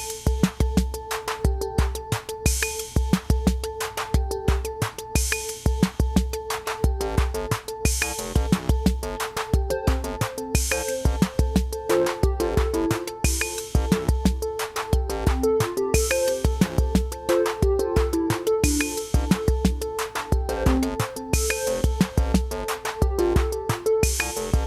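A clean synth preset on an Elektron Digitone plays a looping sequenced pattern of crisp, bright notes over a punchy pulsing low beat, steady and loud throughout with no voices.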